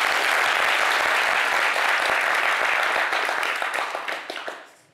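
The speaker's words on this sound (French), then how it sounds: "Applaudissez pour vous." Dense, loud applause from a live audience at a stage show, a steady wash of many hands clapping that holds for several seconds and then tapers off.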